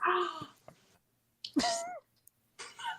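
A cat meows nearby, giving a few short, separate calls with a clear, bending tone, broken by moments of silence.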